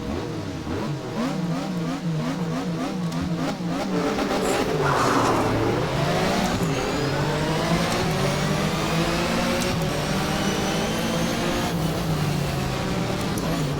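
A Porsche race car engine in a racing game revs and accelerates through rising gear pulls, with a steady, loud drone throughout and a brief tire squeal near the middle.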